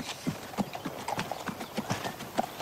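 A horse's hooves clip-clop at a steady walking pace on a hard surface, moderately close and fairly quiet, with no other prominent sounds.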